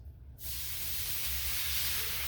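Two cups of water poured into a hot cast iron skillet after searing burst into a loud, steady, close hiss and sputter that starts abruptly and holds without pause.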